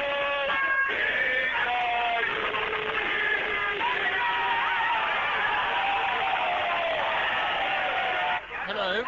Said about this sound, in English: There's a large crowd here, and I was being escorted out to detention by singing the national anthem.